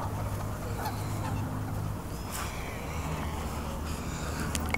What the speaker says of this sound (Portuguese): Nossa, ó, brigando com o ganso.